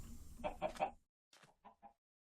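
A chicken in the Minecraft modpack All The Mods Expert clucks in a quick burst of three notes, followed by a pause and then a few softer, thinner clucks.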